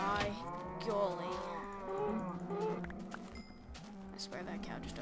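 A cow moos repeatedly in the Minecraft video game, the drawn-out calls sounding close and loud, layered over continuous in-game music and background noise.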